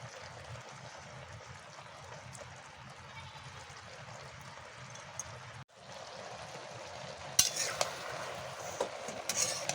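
Banana flower curry with prawns being stirred in a pan, with soft scraping and a low sizzling wash throughout, close but faint, growing a little louder with a few sharper clinks toward the end.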